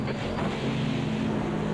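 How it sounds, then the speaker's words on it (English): Spray hisses off race car tyres on a wet track in Automobilista 2, the sim racing game, a dense steady wash over the constant low hum of the engine. "Listen to that spray on the tyres"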